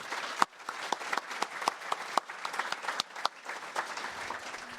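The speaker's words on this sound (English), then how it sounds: "So I think you deserve a round of applause." An audience applauds at a golf hall of fame induction ceremony in Virginia, with a fairly soft but steady patter of many hands and a few distinct sharp claps throughout.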